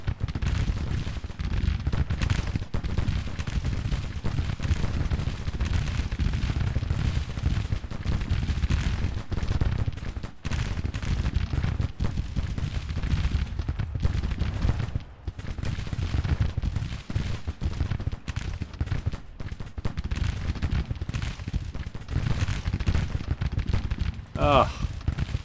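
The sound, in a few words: Civil War infantry volleys firing in Grand Tactician video game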